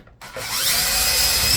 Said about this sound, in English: So now I'm going to drill my hole nice and straight.